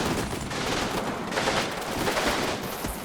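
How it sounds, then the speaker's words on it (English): A .50 caliber heavy machine gun rattles in the Combat Mission battle, a sustained, dense stream of automatic fire at steady loudness with no pauses or voices. "Okay, I hear a 50 cal."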